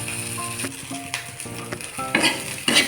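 Soaked poha being stirred into frying potatoes in a home kitchen, with scraping and clinking of a spatula against the pan over a soft sizzle, close and fairly loud, in short irregular strokes.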